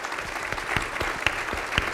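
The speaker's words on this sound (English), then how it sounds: "Let's have a round of applause for our panelists." Audience members at a panel discussion on infrastructure, education and health care applaud the panelists, a thinner round of clapping with individual claps standing out at a moderate level.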